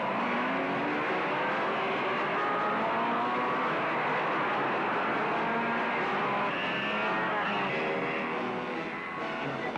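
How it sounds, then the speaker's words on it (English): A pack of racing cars, including a factory Lotus Climax, roars through a Grand Prix circuit in East London, South Africa, several engines wailing and shifting pitch together, close and loud without a break. "Clark, who is number 5, driving a factory Lotus Climax, is first at the bridge as the cars head for Potter's Pass."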